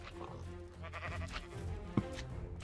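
A sheep in the video game Minecraft bleats amid a steady bed of game ambience and sound effects, with a sharp click partway through.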